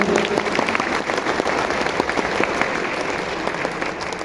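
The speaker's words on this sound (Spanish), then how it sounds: "Ofrezcamos un fuerte aplauso a Guillermo Monroy" Strong, sustained applause from a meeting audience in Coyotepec, State of Mexico, dense steady clapping filling the whole stretch at close range with no break.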